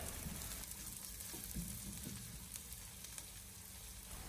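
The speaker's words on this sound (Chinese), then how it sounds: "下切好的蒜末、小米辣翻炒一下，用小火给它不停的翻炒" Minced garlic and small red chili stir-fry in a wok of oil over low heat, giving a steady close sizzle with soft scraping from constant tossing, heard alone without talk.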